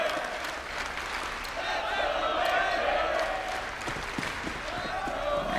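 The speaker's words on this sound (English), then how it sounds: "the crowd here in Dallas getting behind Liquid" An arena crowd at a DreamHack Masters Dallas 2019 Counter-Strike semi-final cheers and applauds in a sustained, distant roar that swells and eases while commentators talk over it.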